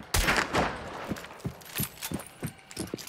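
Shotgun blasts in a tactical shooter video game, a loud opening boom followed by a rapid series of sharper, quicker shots and thuds spaced about half a second apart, with no talk over them.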